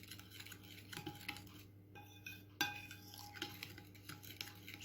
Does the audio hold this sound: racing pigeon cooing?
no